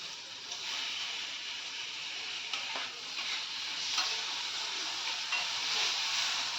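Finely chopped tomato goes into softened onions and turmeric frying in oil, giving a steady, close sizzle with a few light stirring scrapes and clicks from the pan.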